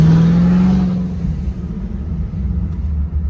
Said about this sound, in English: Now we're gonna have to drive the car real quick, find out.